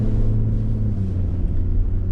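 A 2021 GMC Sierra Duramax diesel pickup cruises through town, a loud steady low engine drone and road rumble heard from inside the cab.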